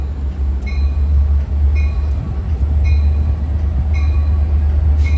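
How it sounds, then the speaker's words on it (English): A Long Island Rail Road train, number 558 bound for Oyster Bay, rolls into Mineola station at evening rush hour with a loud, steady low rumble and regular clicks of wheels over rail joints. "And arriving at 4:52 is train 558."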